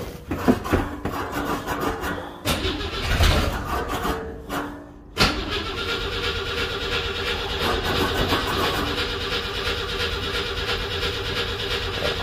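A 1963 Rambler engine cranks over without firing, a steady, loud rhythmic churning of the starter that pauses briefly before resuming and continuing unbroken to the end.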